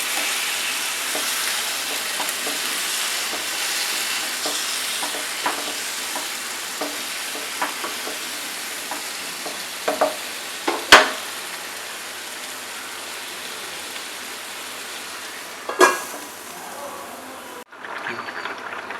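An okra, potato and fish curry is stirred in a pan, giving a continuous soft sizzle with scattered scraping strokes and a few sharper clinks of the spoon against the pan.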